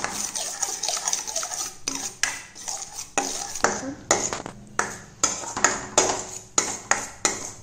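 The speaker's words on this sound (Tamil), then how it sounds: "இது நல்லா நம்ம கிண்டிக்கிட்டே இருக்கணும், நல்லா நல்லாவே கிண்டணும் கொஞ்ச நேரம்." Spoon repeatedly scraping and clinking against a dry pan while mango paste is stirred over a slow flame, with a steady rhythm of close, bright metallic scrapes and taps and no talking.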